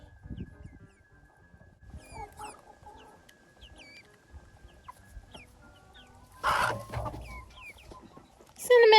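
Young seven-week-old chickens cluck and chirp while settling a pecking order on their first free-range outing, with scattered calls and a louder burst of squawking near the end.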